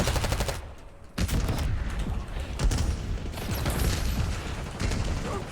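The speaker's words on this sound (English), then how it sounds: "Hostile stun. Flashbang sighted." Black Ops 6 video game combat: dense, continuous bursts of rapid gunfire and mechanical clatter, loud and close, with brief gaps between volleys, during a flashbang attack.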